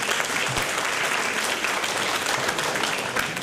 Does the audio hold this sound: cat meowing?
no